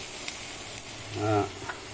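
Garlic and onion fry in a pan for an okra omelette, a constant close sizzle with light stirring ticks, and a brief voice sounds over it.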